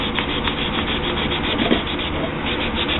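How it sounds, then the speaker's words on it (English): Fine 320-grit sandpaper rubs by hand along a knife, giving a close, continuous scratchy back-and-forth rasp with no voices. "Now I'm just doing a little fine hand sanding to get out a couple of the little ridges"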